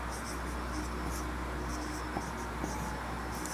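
Strokes scratch across a board or paper during a polynomial math lesson. Short, faint scraping marks come in uneven bursts over a steady background hiss, with no talk.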